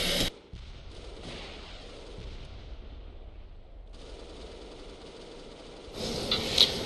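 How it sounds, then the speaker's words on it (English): Rapid gunfire in a competitive tactical shooter match, bursts of shots traded between players across the clip, with a louder crack near the end over steady background game noise. "He's exchanging fire with Josh."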